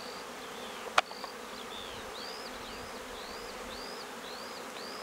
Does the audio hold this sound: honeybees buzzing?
yes